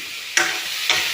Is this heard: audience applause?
no